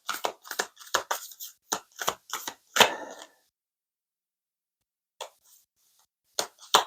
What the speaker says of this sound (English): I want to make sure that I do a good job of shuffling these new cards that are a little bit stiff